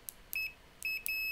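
A multimeter in continuity mode gives a high-pitched electronic beep twice, each a steady sustained tone preceded by quick clicks, close and clear against a quiet background.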